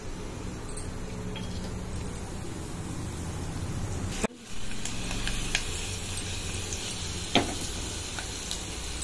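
Ingredients for an ice apple (thati munjalu) curry sizzle steadily in a hot pan, a constant close frying hiss with occasional sharp clicks and a brief dip midway as the pan is stirred.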